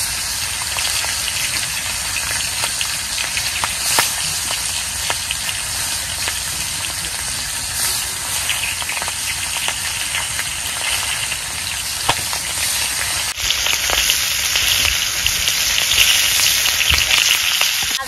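Large pieces of boal fish fry in hot oil with a loud, steady, close sizzle and hiss that continues without break, briefly intensifying near the end.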